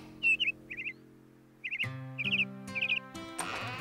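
Cartoon small blue bird chirping in short bright bursts of quick trilling tweets, several separate calls over steady background music.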